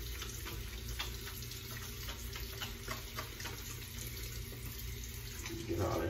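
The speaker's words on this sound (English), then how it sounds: "let me wash my hands before I flick any fluid" Hands being washed with soap under a running tap, a steady close splash of water flowing into a sink with faint rubbing, continuous throughout.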